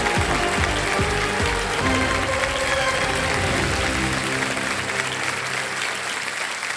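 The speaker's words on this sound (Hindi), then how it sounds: "big hand for mister Yogesh Kumar Khalra" A studio audience on a TV quiz show applauds loudly and steadily, a dense roar of many hands clapping throughout that only slightly eases toward the end.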